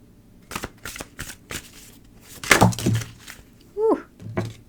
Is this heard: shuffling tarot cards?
yes